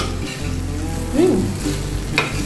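Bitter gourd pieces frying in a pan with a little water and sugar, a steady close sizzle with a couple of spatula scrapes and clinks, no one talking.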